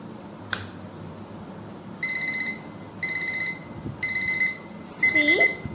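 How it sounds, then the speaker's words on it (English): A table alarm clock beeps in short electronic bursts about once a second, near and fairly loud over a quiet room, after a soft click at the start. "See, the alarm is ringing."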